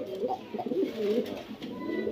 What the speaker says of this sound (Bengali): এখানে আছে একজোড়া বিবেক বুদাপেস্ট কবুতর, ব্ল্যাক বিবেক বুদাপেস্ট